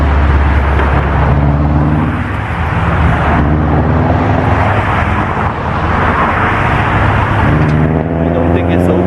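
Steady road traffic and passing cars on a daytime drive to a Starbucks, a continuous loud engine and road rumble with no break, with talk over it at times.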